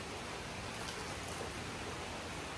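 Light drizzle falling in an outdoor dining spot in Bali, a steady, soft hiss of fine rain spread evenly across the whole stretch with no voices.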